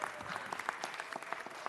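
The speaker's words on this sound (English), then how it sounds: "Let's give them one more round of applause." Applause at a city council meeting, a short burst of many hands clapping in a dense, even patter, moderately close, with no talk over it.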